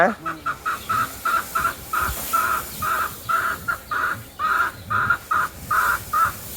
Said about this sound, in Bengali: এই যে পাশেই মুরগি এই যে মুরগি দেশি মুরগি